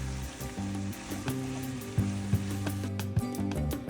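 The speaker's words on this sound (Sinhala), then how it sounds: "එකතු කරගත්ත බෙල් පෙපර් ටික තෙලෙන් පොඩ්ඩක් ටෙම්පරාදු වෙනකම් අපි ටිකක් මේක මික්ස් කරගන්න ඕන" Bell peppers fry in hot oil while being stirred in a pan for Sri Lankan devilled cuttlefish, a steady close sizzle with occasional scraping stirs over a low humming background.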